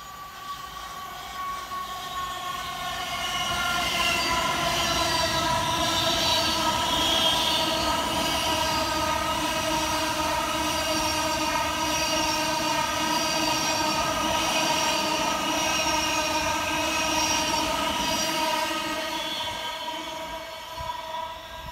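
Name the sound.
train passing through station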